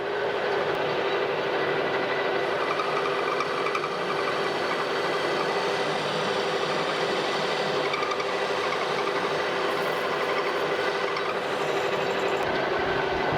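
A lathe cuts a broach bushing with a parting tool, giving a steady, dense machine whir with a continuous grinding hum, close and unbroken for the whole stretch with no talking.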